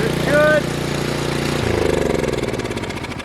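A Craftsman gas snow blower with a 6.5 horsepower engine and a 24-inch cutting area runs steadily nearby, its small-engine chug continuous and loud while someone talks over it.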